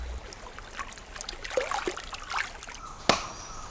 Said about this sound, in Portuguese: Mão de pele preta lava o cacau amarelo na água.